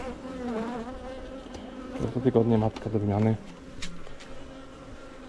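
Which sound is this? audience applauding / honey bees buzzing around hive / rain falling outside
honey bees buzzing around hive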